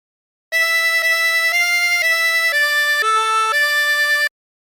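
A 24-hole tremolo harmonica plays the Aura Lee melody alone, a steady sequence of sustained, shimmering reedy notes changing pitch about every half second, loud and close with no talk.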